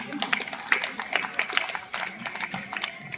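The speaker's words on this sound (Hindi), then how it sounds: "With the same spirit of applause, please welcome Mrs. Sajida Nadeem" Audience applause at an Aligarh Muslim University Sir Syed Day celebration, scattered claps rising and falling over a few seconds at moderate distance, with a faint voice in the background.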